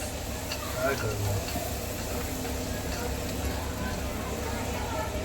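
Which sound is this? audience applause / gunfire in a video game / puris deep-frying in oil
puris deep-frying in oil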